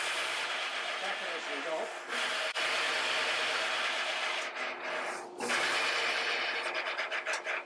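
Filing or sanding away at the bone nut of a 1964 Harmony H19 guitar on a workbench: a continuous close rasping scrape that runs almost the whole time, with a couple of brief pauses.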